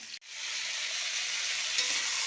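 Fish fries in a pan with a loud, continuous close-up sizzle and hiss, briefly cut at the start, then steady throughout with a faint crackle near the end.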